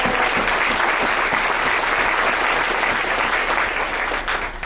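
Loud, continuous applause from an audience at a university fraternity and sorority probate show, steady dense clapping filling the whole stretch with no voices over it.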